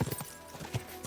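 Horse hooves clip-clop in an even, quick rhythm in Kingdom Come: Deliverance II, faint and close, with about four or five distinct hoof strikes.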